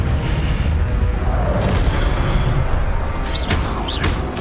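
A fire spell cast in the Hogwarts Legacy video game gives a loud, booming magical blast with crackling bursts and whooshes over dense, continuous game sound.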